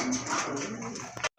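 Pigeons kept for sale coo close by in a short, soft, throaty burst that cuts off abruptly at the end.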